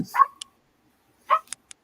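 A puppy gives two short yipping barks about a second apart, clear and fairly close in an otherwise quiet room, each followed by a faint click.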